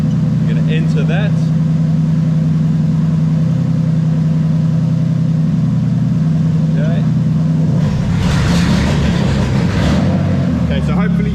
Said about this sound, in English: hopefully you heard the motor make a really different engine note as we tested that